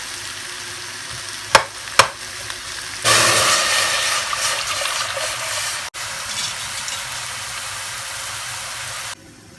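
Sliced mushrooms cooking down in a pan for creamy mushroom pasta: a couple of sharp knocks come first, then a loud, continuous sizzle and hiss as they fry and are stirred, cutting off abruptly near the end.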